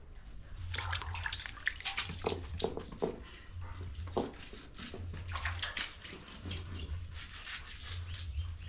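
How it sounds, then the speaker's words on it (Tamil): Cleaned fish being rinsed in water, with splashing and sloshing that comes in repeated bursts at close range, with no talking. "மீனெல்லாம் வந்து ஆஞ்சி எடுத்தாச்சு இப்போ அலசிட்டு இருக்கிறேன்"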